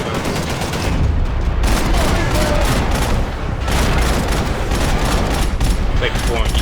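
Dual-wielded pistols fire in Max Payne 3, a dense, loud barrage of rapid shots that runs almost continuously with brief pauses, under game effects and a voice.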